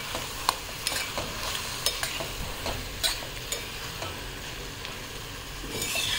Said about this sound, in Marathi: चवीपुरतं मीठ मसाल्याच्या आणि परत एकदा हलवून घेते.